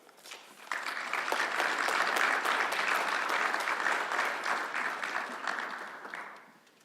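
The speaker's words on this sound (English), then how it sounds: "please join me in thanking the MAA and welcoming Robert Winslow to say a few words" A lecture audience breaks into loud, sustained applause that swells after a quiet moment, holds steady for several seconds, then tapers off.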